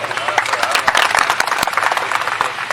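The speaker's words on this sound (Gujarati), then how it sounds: "આ ખરેખર આપણે એમને તાળીઓથી બિરદાવવા પડે એક વખત" An audience applauds at a talk on natural organic farming, dense clapping spread across the whole stretch with a few sharper claps standing out, fairly loud and steady.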